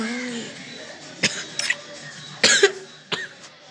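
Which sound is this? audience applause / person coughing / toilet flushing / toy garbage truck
person coughing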